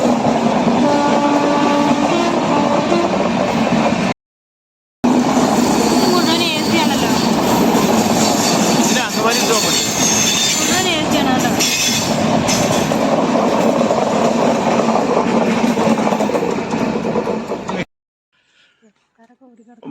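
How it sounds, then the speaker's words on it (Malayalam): A train rumbles steadily through a small railway station in Kerala where big express trains do not stop, with loud close rolling noise, clattering wheels and a horn. It stops abruptly near the end, with voices faintly present. "ഒരു വണ്ടിയും കൂടി വരുന്നുണ്ട്."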